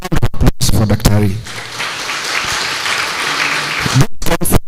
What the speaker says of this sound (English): Another round of applause for Dr. Hari.